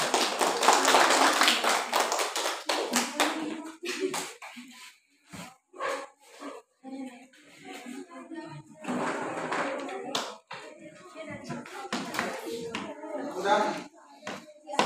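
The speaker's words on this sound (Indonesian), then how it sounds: "Berikan tepuk tangan untuk kelompok." A classroom audience claps for a student group after its presentation, with a burst of dense clapping at the start that breaks into scattered, fading claps and taps while people talk nearby.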